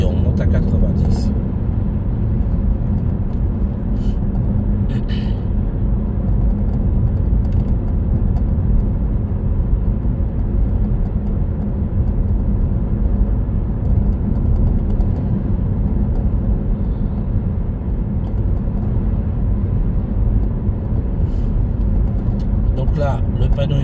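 A car accelerates up to 90 km/h on a road along a driving-test route near Villepinte, heard as a steady, loud engine and road rumble from inside the vehicle with a voice talking over it.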